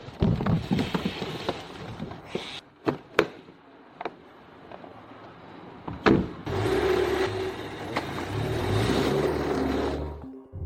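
A car engine runs steadily while electric power windows whir, with a few sharp clicks and thumps early on, then a longer, louder stretch of motor and mechanical noise close by.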